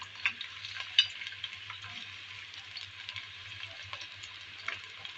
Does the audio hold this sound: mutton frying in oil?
yes